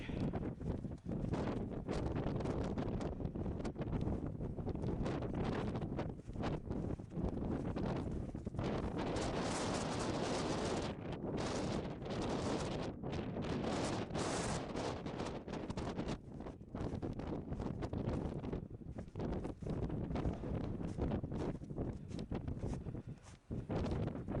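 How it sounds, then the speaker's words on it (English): Freezing wind at a Wyoming megalith site blasts the microphone without a break, a loud roaring buffet that rises and falls in gusts and covers the whole stretch with no talk. "the wind is coming in from every direction"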